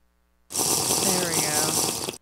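Drinking water in Minecraft makes a loud, continuous rushing splash that starts abruptly, holds steady for under two seconds and cuts off cleanly.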